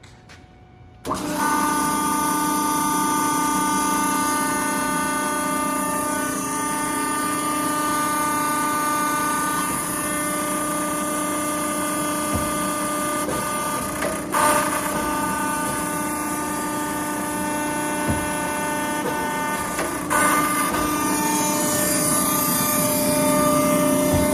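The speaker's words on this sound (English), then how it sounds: "150 ton by 10 foot Wysong hydraulic press brake" A 150 ton, 10 foot Wysong hydraulic press brake runs with a loud, steady hum and pump whine. A few faint clunks sound partway through, and nobody speaks.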